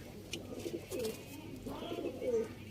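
A male teddy pigeon coos close by in soft, low, rolling phrases, two or three quiet bursts over faint background noise.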